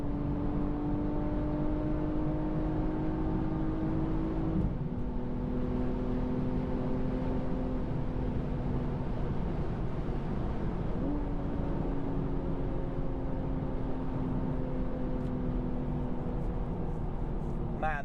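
A BMW M240i xDrive G42 coupe accelerates hard on the autobahn, its engine droning steadily inside the cabin while the pitch climbs through the gears with distinct shift drops, accompanied by constant road and wind noise.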